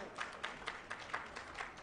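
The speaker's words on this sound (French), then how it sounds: "le public nombreux va applaudir" Audience clapping at a municipal "J'aime ma commune" award ceremony, a faint, distant patter of many hands with soft rhythmic peaks, no voices over it.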